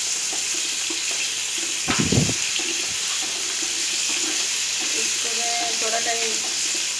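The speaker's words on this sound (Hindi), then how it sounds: "थोड़ा टाइम 5 मिनट फ्राई कर लूंगी" Cauliflower frying in a pan with turmeric powder and salt gives a loud, steady hiss, with a brief clatter of stirring and faint tones from other sounds nearby.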